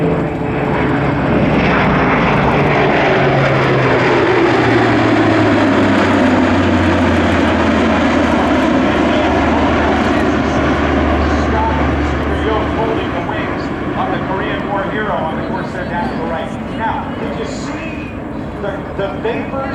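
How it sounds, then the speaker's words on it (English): A Luftwaffe Airbus A400M Atlas, a military turboprop with eight-bladed propellers, roars past at an air show; a loud sustained propeller drone with falling Doppler pitch sweeps by, then fades slightly as it moves away. "it's a turboprop. It's not a turbofan. It's not a jet."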